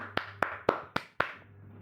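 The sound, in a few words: clapping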